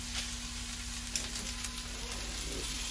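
Pressed garlic hits a hot pan for a breakfast hash and gives a soft, even sizzle that stays steady throughout, with a faint clink of a spoon partway in.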